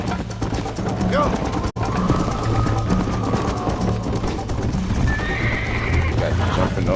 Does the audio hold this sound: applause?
no